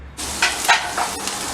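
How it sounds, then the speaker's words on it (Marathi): Ginger garlic paste frying in a pan for sambar, a steady close sizzle with a few brief stirring scrapes, no talking. "आता आलं लसूण परतून घेऊया."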